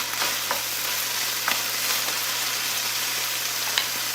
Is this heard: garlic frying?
yes